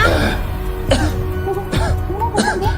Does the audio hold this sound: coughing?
yes